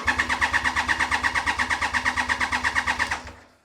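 A Triumph Trident motorcycle engine cranks over on the starter without firing to pump oil round, a steady rhythmic whirring chug of about eight pulses per second, close and loud, stopping abruptly after three seconds.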